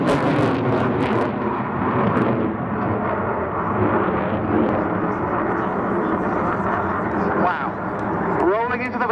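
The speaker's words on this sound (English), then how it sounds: "Rolling into the vertical, the Royal Air Force Eurofighter Typhoon, FGR-4." A Royal Air Force Eurofighter Typhoon FGR4 jet departs and rolls into the vertical at an RAF Cosford air display, a loud, steady roar throughout that is near and sustained, with crowd voices beneath it.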